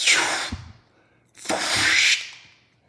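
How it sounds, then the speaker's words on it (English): Two breathy, hissing bursts, like air released from a pneumatic system for a robot sound effect. Each starts sharply and fades, the second longer, with a quiet gap between them. "And what does a pneumatic system sound like?"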